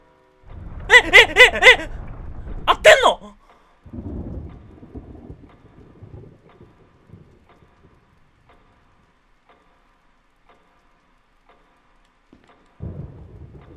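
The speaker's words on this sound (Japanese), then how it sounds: "あ、雷か。" A low rumble of thunder rolls in Resident Evil HD Remaster, fading slowly over several seconds into quiet, with a further low rumble near the end; loud voices shout and laugh over its start.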